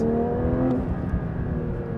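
A 2024 Porsche 911 S/T engine growls loudly with a rich, throaty rumble and rising harmonic tones as it revs, heard up close without any talking.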